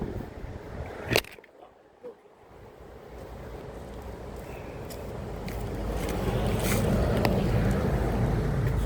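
Steady wind roars and buffets the microphone outdoors during a drive, briefly dropping near the start before building to a loud, continuous rush.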